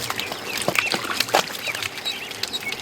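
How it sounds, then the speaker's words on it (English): Muscovy ducklings in an outdoor pen give a busy scatter of small quacks and peeps, overlapping and fairly close, with a steady low outdoor background underneath. "The ducks are just having too much fun here today, being outside."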